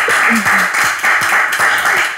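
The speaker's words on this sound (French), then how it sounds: "Il y a même l'équipe qui applaudit" A small team claps in rhythmic bursts of a few hands, close and fairly loud, with a faint voice underneath.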